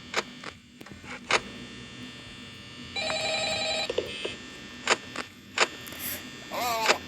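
Mobile phone ringing and buzzing indoors, with a sustained electronic tone burst midway and repeated short sharp pulses scattered across the clip, fairly close, with brief voice sounds in between.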